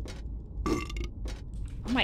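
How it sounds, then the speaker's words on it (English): Burping nurse enemies in the horror video game Silent Hill 4: The Room, several rough, gurgling belches in quick succession, close and fairly loud, with some voice-like sound mixed in among the bursts. "Perfect time, Walter, to get the burping nurses"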